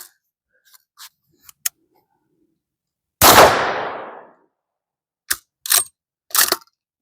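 A Howa MVP .308 rifle firing Winchester white box supersonic ammunition gives one loud close shot with a long ringing decay, set among several sharp metallic clicks and clacks of the action before and after.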